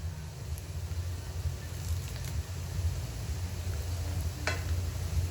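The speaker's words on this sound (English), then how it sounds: "Now fry the curry leaves a little bit." Curry leaves frying in oil in a pan give a steady, low crackling sizzle throughout, with an occasional faint clink of a utensil.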